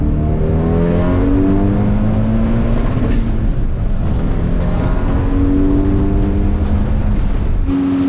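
A Mustang carrying a 425 hp Ford Escape engine swap and a Tremec 5-speed manual pulls hard, its engine note rising steadily through the revs with a brief shift break, loud and close from inside the car.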